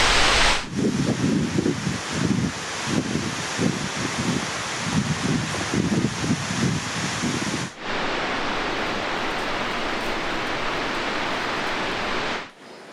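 Spray from a waterfall falls like rain on a sunny day, a steady loud hiss of droplets and rushing water close by, with rhythmic rustling of movement through the first half and no talking.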